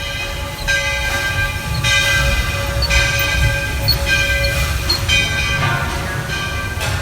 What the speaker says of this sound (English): The train has now arrived